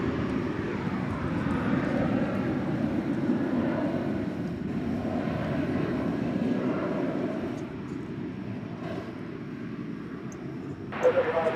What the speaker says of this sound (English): It's an Airbus A320.